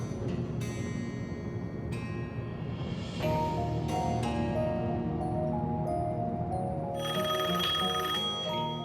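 A telephone rings repeatedly with a bright electronic trill from an unknown number, loud and steady across the whole stretch, over a dense, music-like background in a dubbed drama scene.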